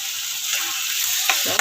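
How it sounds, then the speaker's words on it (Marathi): Chopped tomato and turmeric sizzle in hot oil in a frying pan as a spoon stirs them, a steady close frying hiss with a few scrapes toward the end. "तर मिक्स करून घेते चांगलं."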